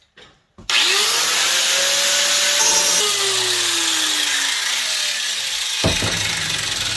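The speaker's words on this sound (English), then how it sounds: "I got the Makita grinder out here, and I got it clamped to my vise." Makita angle grinder clamped in a vise, sharpening a Honda lawn mower blade: a loud, steady high-pitched whine starts suddenly after a brief knock, with shifting grinding tones as the blade is drawn across, running continuously to the end.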